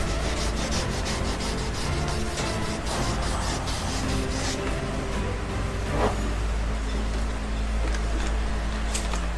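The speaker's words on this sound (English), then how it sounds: "The sandpaper I'm going to use is a 3000 grit." Hand sanding of thick painted coat on a Stormtrooper helmet with 3000 grit sandpaper, a steady close rubbing scrape with quick repeated strokes over a constant low hum.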